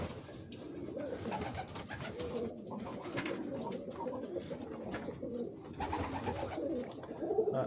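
Trumpeter pigeons in a breeding loft give soft, continuous rolling coos and murmurs that overlap at close range, with faint rustling in the background.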